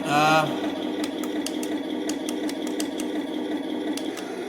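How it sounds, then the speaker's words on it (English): A toy machine gun effect from a 1:16 scale Heng Long RC M4A3 Sherman tank rattles continuously in a fast mechanical buzz, with faint clicks throughout after a brief voice at the start. "this is the machine gun sound effect."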